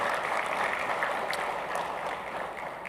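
Audience applause after the Governor's presentation at a monetary policy and financial stability briefing, a steady, fairly distant wash of many hands clapping that holds evenly throughout with no voices over it.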